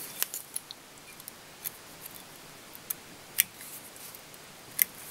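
Scissors snip fly tying material on a salmon fly, a few quiet, sharp clicks scattered through an otherwise hushed bench, no talking.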